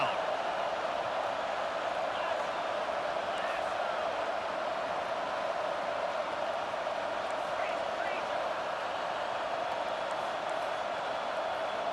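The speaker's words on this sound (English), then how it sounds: "Here comes this home crowd as the defense tries to get off the field on 3rd down." Home crowd noise in a college football video game as the defense tries to get off the field on third down, a steady roaring wash of cheering that holds evenly throughout with no break.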